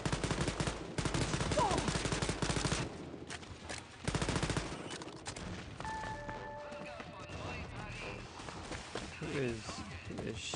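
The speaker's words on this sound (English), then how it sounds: "Who is shooting?" Rapid game gunfire from Wolfenstein Youngblood rattles in dense bursts through the first few seconds, then eases into scattered shots and softer effects, with people talking over it.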